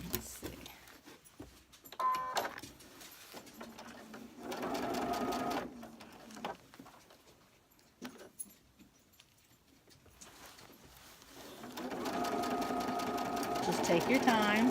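A sewing machine stitching a pillow form in bursts of rapid mechanical whirring and clatter, pausing between runs and building to a longer stretch at the end, close and clear, with a voice speaking during the quieter gaps.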